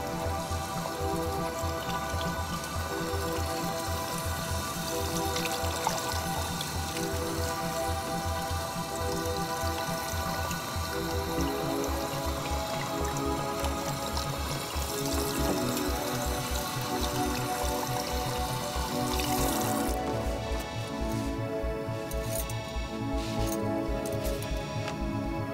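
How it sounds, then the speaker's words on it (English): Warm water at medium pressure rinses perm solution out of hair, a continuous spattering patter like steady rain on a surface that goes on for a long while, with no talking. "Warm water, medium water pressure, rinsing section by section."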